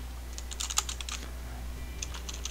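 Name typed on a computer keyboard in two short bursts of quick, close, light key clicks separated by a brief pause, with no talking.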